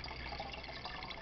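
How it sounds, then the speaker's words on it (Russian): Water burbling and trickling into a bottle held half-submerged at a spring in a village in Belarus, a soft continuous gurgle heard close and fairly quiet. "Вот мы начали набирать бутылку, она сейчас наполовину в воде."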